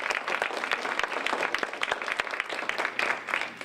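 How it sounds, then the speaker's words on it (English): An audience applauds a guest speaker, Professor Richard Wilson, at an architecture lecture: dense, steady clapping from many hands filling the room, sustained at even loudness without voices. "if you can please have a round of applause for our guest"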